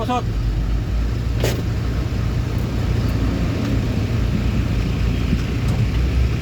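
Steady rumble of road traffic while stuck in a long jam on a road toward Pampanga, heard from inside a vehicle, with a constant low engine drone, an occasional passing whoosh and people talking throughout.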